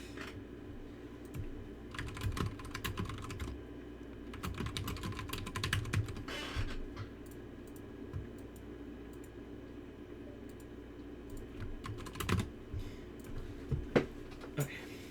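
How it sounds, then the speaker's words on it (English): Computer keyboard typing comes in irregular bursts of quick clicky keystrokes, close and fairly quiet, with pauses between flurries and faint background game sound. "I'm not typing that."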